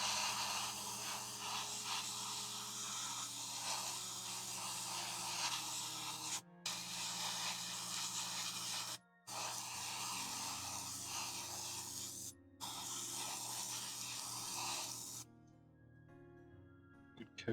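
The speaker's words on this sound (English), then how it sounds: "One thing it does need though is a lot higher pressure on the airbrush than I would use for normal paint." Airbrush spraying thick thinned acrylic paint at high pressure onto a model aircraft engine, a steady close-up broadband hiss in long bursts broken by brief stops, ending in quiet.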